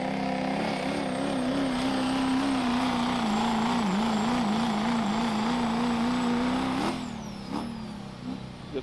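Pulling truck engine during a truck pull pass, a loud sustained drone wavering in pitch for several seconds, then easing off near the end with a high whine fading.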